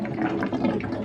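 Water draining steadily from opened taps of a drained-down hot water system, a close continuous rushing flow with no voices.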